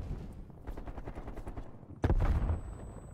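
Rapid gunfire crackles in the Call of Duty Cold War video game, with a dense volley building through the first two seconds before a loud explosive burst near the end.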